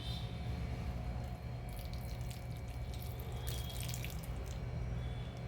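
Coconut milk mixed with cardamom powder pours over sweet potato idiyappam, a soft, steady liquid trickle and drip that runs continuously at moderate distance with no talking.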